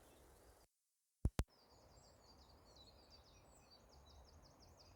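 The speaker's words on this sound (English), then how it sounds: "Amazing the amount of birds." Soft outdoor ambience with faint, continuous high chirping birdsong running through, after a brief dropout and two sharp clicks.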